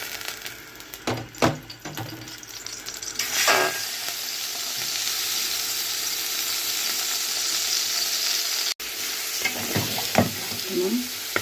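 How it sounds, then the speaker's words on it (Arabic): Meat sizzles and fries in a pot for a potato tagine, starting with a few scraping stirs and then settling into a steady, close crackling sizzle with occasional utensil knocks. "هننزل بقى باللحمه"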